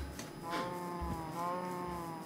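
Pigs in the Minecraft video game grunt a few times in quick succession, short nasal oinks standing out clearly against a quiet background.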